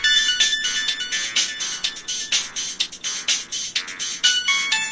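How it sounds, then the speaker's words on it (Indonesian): A mobile phone ringtone sounds for an incoming call, a bright, loud electronic melody of rhythmic bursts repeating without pause, with no one speaking. "Telepon dari Bu Vera"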